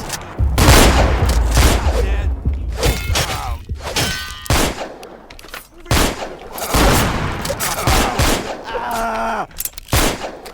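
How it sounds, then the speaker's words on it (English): Gunfire erupts in Vampire: The Masquerade - Bloodlines, a barrage of sharp shots and bursts with metallic clangs, loud and close across the whole stretch, with brief bits of game voice mixed in. "Did these guys just start shooting at me?"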